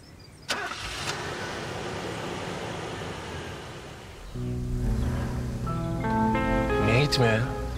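A car engine cranks and catches at night, rising into a steady idle with a tonal whine, while rain patters and people talk nearby.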